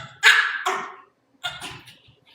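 A dog gives a short series of barks and yips, two loud close bursts followed by a fainter one after a pause, with no talk over it.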